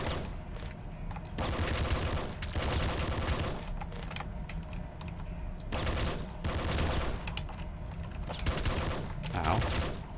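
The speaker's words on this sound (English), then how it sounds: "SMG's pretty good against these guys." SMG fire in the video game Nuclear Throne, rapid bursts of close, loud automatic gunshots in several long volleys separated by brief pauses.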